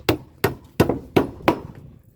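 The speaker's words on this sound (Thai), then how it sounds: "คนชอบตอก ชอบตอกตะปูเนาะ" A hammer driving nails while a house is built, with five loud, evenly spaced blows about a third of a second apart, close by and with no talk.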